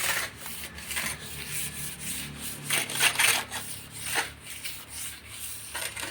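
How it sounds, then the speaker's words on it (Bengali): Someone hand-polishes a finished surface on a house in Kerala, India, making continuous scraping and rubbing strokes in a steady back-and-forth rhythm. The sound is close and moderately loud, with no talk over it. "এই যে পালিশটা করছি"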